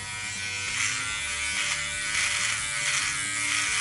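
A Philips Norelco OneBlade electric trimmer runs with a steady, close buzzing hum while trimming the neck, holding an even loudness throughout with no talking.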